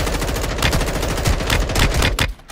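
Loud, close automatic gunfire from a gun in the video game Warzone 2, dense bursts of shots that stop abruptly near the end, with no talking.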